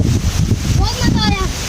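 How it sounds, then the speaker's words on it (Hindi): Heavy rain falls outdoors in a park, a dense rushing wash of drops and wind noise against the microphone, with voices faintly present underneath. "ओए बारिश और तेज हो गई यार, ऊपर से पानी भी आना शुरू हो गया।"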